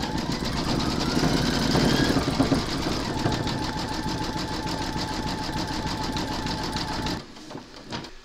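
A Brother embroidery machine stitches Santa's boot cuffs in white thread, giving a continuous close, loud mechanical chatter with rhythmic needle knocking that stops abruptly near the end, followed by a few faint clicks.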